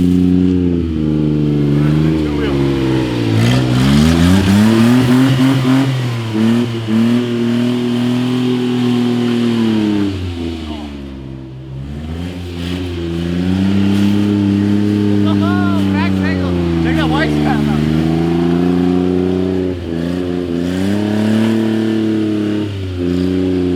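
A two-wheel-drive Kei truck stuck in snow revs its small engine hard and long, the pitch rising and falling in repeated surges with a brief dip between, loud and close, while people talk over it.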